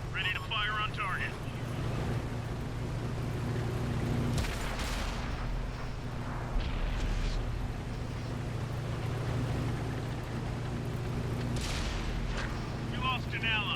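Two heavy tank cannon shots boom out several seconds apart in World of Tanks, each a loud burst over a steady low engine rumble.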